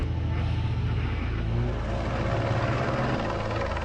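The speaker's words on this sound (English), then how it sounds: "When helicopters arrived from the French Navy to break up the confrontation" French Navy helicopters arrive overhead at sea, where the rotors make a loud, continuous, rapid thudding beat over a dense engine roar that stays heavy and unbroken throughout.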